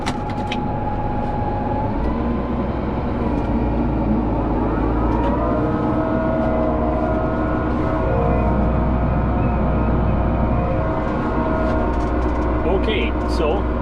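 A tractor pulling an anhydrous applicator crawls across a farm field, its engine making a continuous, loud, close drone with steady tonal whine throughout and a few faint clicks.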